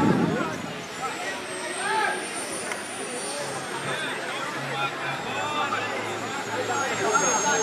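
Jet engines of a large radio-controlled Boeing 747 model whine at a high, steady pitch at a distance, under crowd babble and a voice talking on a loudspeaker.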